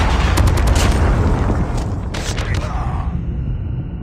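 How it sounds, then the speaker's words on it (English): A Predator missile strikes in Call of Duty Mobile, a loud, close, rumbling boom with a burst of gunfire-like crackle that slowly fades over several seconds. "Hostile Predator missile inbound."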